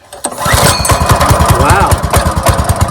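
A small gasoline engine catching after a pull-cord start, a loud close chugging rhythm that settles into a fast, rough running beat.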